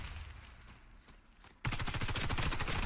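ACR CQB rifle in the game Warface opens up abruptly after a quiet stretch, a loud, continuous stream of rapid automatic gunfire with densely packed shots.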